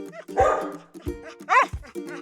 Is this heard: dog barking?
yes